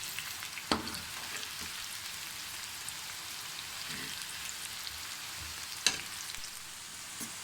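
Okra fries in hot oil with a continuous, even sizzle like light rain, close and moderate in level, broken by two sharp clicks of a utensil.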